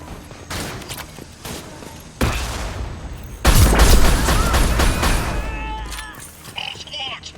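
A grenade blast in Mass Effect 2 combat: a heavy, loud boom erupts mid-clip and rumbles on for a few seconds, amid gunfire crackle, battle noise and shouted voices.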